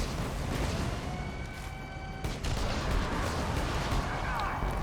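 Large rockets fired by the Badassasaurus boss in the Borderlands game, launched at a Kerblaster-wielding player, boom as dense, rumbling explosive blasts that keep rolling over one another, loud and near.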